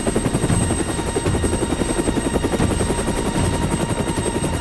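A helicopter hovering close over a burning watchtower in a Lego animated rescue scene. The rotor chop is loud and steady, with a continuous engine drone and whine throughout and no talking.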